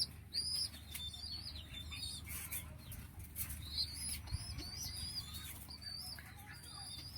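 A pair of pigeons kept in a cage at a rooftop garden flap their wings in brief repeated bursts, with soft coos and small chirps nearby.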